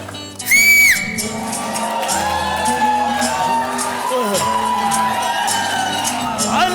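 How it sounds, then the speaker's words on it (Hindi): Whistling and crowd cheering at a Hindi television game show, a sharp shrill whistle burst followed by loud sustained cheering, whooping and shouts from a studio audience. "अब मार सीटी बुला ले उसको।"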